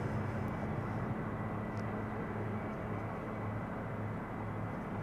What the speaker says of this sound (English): Flight 984 arriving from London City and Embraer 190